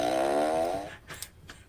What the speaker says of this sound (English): Oh, come on, fart machine.